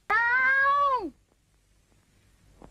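A single drawn-out cat meow, loud and close, lasting about a second with a falling tail, followed by near silence and faint low rumble.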